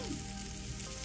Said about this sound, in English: There's more sizzling.